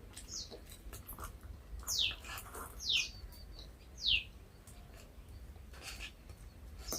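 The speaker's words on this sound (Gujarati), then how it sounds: "કઈ ચકલી આવી ગયો" Sparrow chirps sound in short, bright bursts, about three to four distinct calls spaced a second apart, over a low steady background hum in a home setting.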